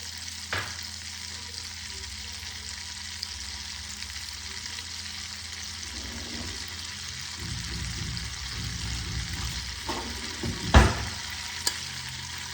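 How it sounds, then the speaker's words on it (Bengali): Whole cumin seeds tempering in hot oil left over from frying fish, a steady close sizzle with stirring scrapes and a sharp clank near the end, no talking. "এবার আমি ওই একই তেলে অল্প গোটা জিরে ফোড়নে দিয়ে দিলাম।"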